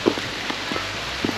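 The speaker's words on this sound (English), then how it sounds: "It's raining again. It keeps raining on and off." Rain falling on and off during a day hike over rocky terrain at Sugarloaf Mountain, heard as soft scattered patters and a few louder drops over a steady quiet hiss, with no voices.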